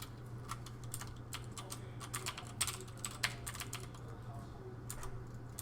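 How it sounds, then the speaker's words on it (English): Computer keyboard keys tapped in quick irregular bursts while playing StarCraft as Zerg, pressing location hotkeys such as F1; close, crisp clicks over a steady low hum. "you see how on my keyboard I'm hitting F1"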